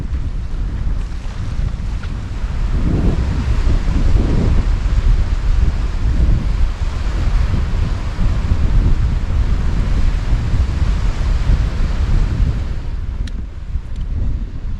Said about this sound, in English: Just a shame about this wind. Bit of a nuisance.